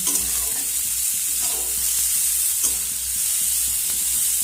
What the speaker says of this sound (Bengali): এবার পেঁয়াজ রসুন আর কাঁচা লঙ্কাটা আমি ভালো করে ভেজে নেব